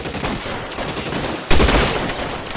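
Gunfire in L.A. Noire, with dense continuous shooting and a rolling din throughout and a louder sudden burst about halfway through.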